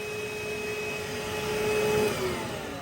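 A Numatic Henry hoover, model NRV200C2, runs its vacuum motor at a steady, close whine with a constant drone that swells slightly midway, alone without talk.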